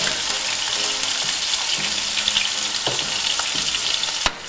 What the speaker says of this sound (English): And the last addition, which is going to make this so lovely, buttery, and garlicky, is